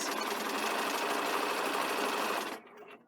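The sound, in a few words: sewing machine stitching a fabric front band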